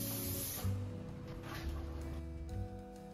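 Protective varnish spraying onto a finished painting, a steady close hiss of an aerosol can running continuously with slight pulses in level.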